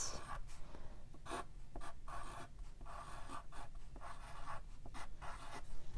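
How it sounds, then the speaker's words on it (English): A marker writes a word on a paper sign or poster in short scratchy strokes, close and quiet, with rhythmic pauses between letters. "at the bottom, I'm going to write the word"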